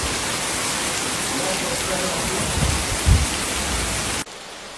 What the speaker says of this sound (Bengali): মুষলধারে বৃষ্টি শুরু হয়ে গেছে